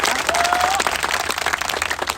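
Dense applause from a rural gathering of farmers welcoming a guest at a New Year car rally event, steady and close, with a brief whistle-like tone near the start.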